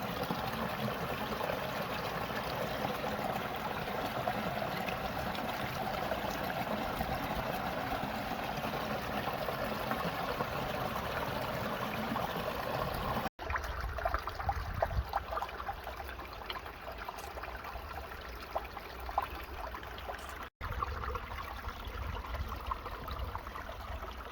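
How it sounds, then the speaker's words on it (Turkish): A babbling stream on a forest route rushes steadily and close by, a continuous watery hiss that stays even throughout, with two brief cuts in the sound. "Derenin şırıltısı arkadaşlar."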